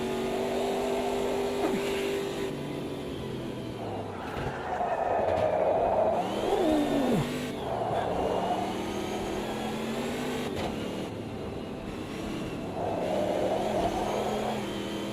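A racing car's engine in a racing video game revs and drones steadily, swelling and dropping with acceleration and shifts, loud and continuous throughout.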